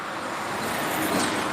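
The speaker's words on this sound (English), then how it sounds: "So we can hear trucks like from miles away now, can't we?" A distant truck on a roadway rumbles steadily in broadband road noise, swelling slightly louder toward the end of the short stretch with no talk.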